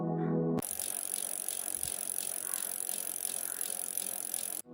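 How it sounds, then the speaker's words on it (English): A bicycle's freewheel ticks in a fast, steady ratcheting rattle, close and clear, running for several seconds after a brief tonal sound at the start. "Bicycle."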